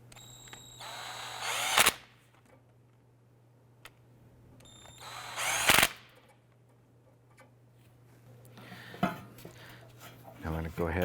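A power tool snugs down bolts on the power steering pump of a 2001-2005 Honda Civic, giving two short, loud whirring bursts a few seconds apart over a steady low hum, with a softer clatter near the end.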